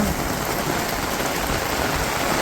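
Heavy rain pouring down in a village during house construction, a dense, loud, unbroken hiss of drops striking surfaces, with no voices.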